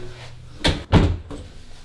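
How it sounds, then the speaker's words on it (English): A door swung shut near a bathroom with a shower, two quick heavy thuds close by, fairly loud, followed by quiet. "You want me to close the door?"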